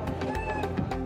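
A cat meowing in a short, loud call lasting about a second, set against a dense, noisy background.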